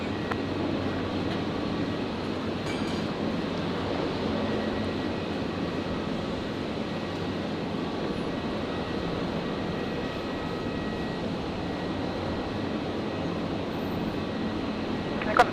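An airliner arrives at Brisbane International Airport on runway 01 right, heard as a faint, distant, steady engine drone with a low hum that persists throughout, and a person talks quietly over it.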